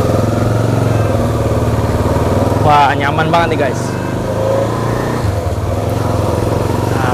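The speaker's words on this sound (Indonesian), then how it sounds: "kita mungkin akan coba untuk test ride motor ini guys" A KTM Duke 250 motorcycle engine hums steadily up close throughout, with someone talking over it partway through.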